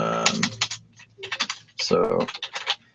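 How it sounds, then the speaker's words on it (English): Someone types a message on a computer keyboard in quick, close bursts of clicking keystrokes separated by short pauses, with some voice sound in the background. "Let's just give him a quick little type here."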